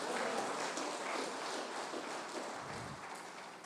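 A church congregation applauds during a sermon, a dense, even wash of many hands clapping at a distance, fairly faint, continuing steadily for a few seconds without speech.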